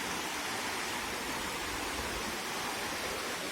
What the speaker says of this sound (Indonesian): Insya Allah sungainya lumayan deras ini ya.